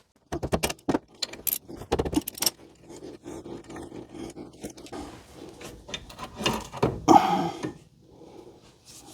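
Brake caliper bolts on a car being loosened with hand tools: close, irregular metallic clicks, clinks and ratcheting bursts, with denser rattling toward the end.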